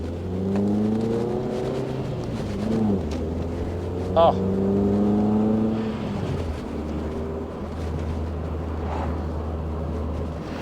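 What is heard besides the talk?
Peugeot 205 GTI engine revving while driving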